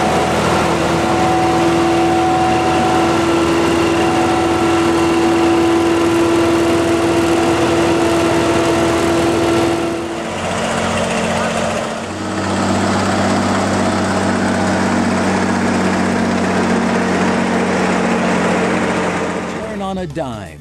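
A laser screed concrete-leveling machine runs loudly on a job site, its engine holding a steady droning hum with tonal whine that shifts pitch around midway as it drives and maneuvers, continuous throughout.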